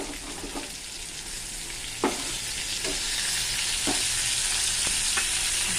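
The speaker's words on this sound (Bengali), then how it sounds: "তারপরে দিয়ে দিলাম আমি এই পটল আলুগুলো। এটা আর ভেজে তুলে নেব না, এর মধ্যেই করব।" Pointed gourd and potato pieces fry loudly in a pan with onion, garlic and ginger paste, a dense continuous sizzle up close, punctuated by several dull knocks of a spoon stirring through the vegetables, with no talking.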